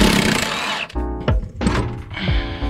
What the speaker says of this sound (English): I'm just gonna go ahead and unbolt both of these and then pull this off the knuckle from here.